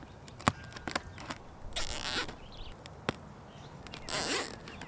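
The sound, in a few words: zip ties being pulled tight on an archery target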